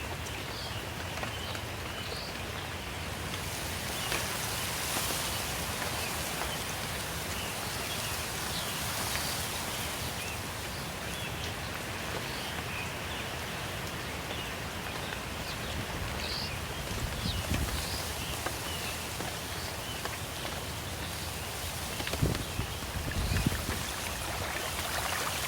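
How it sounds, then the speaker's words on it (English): Steady running water in the Galapagos, a continuous close wash like a stream or rain-fed trickle, with faint bird calls and rustling over the unbroken flow, no voices. "In Galapagos, it's very strange to listen this sound of water"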